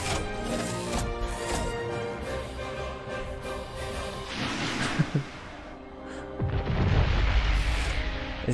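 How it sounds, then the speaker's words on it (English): Deep booming explosions roll out over layered background music in the video game Edge of Eternity, one sharp pop followed later by a louder, rumbling blast. "Les explosions sont belles, honnêtement, pour un jeu là"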